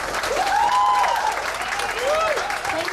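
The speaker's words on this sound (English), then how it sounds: "please give a big applause to Ajeng and Ratna from Chata Odata" Audience at a PechaKucha Night evening in Ubud, Bali, clapping steadily for arriving presenters, a close, even patter of applause over which a voice calls out and a few whoops rise.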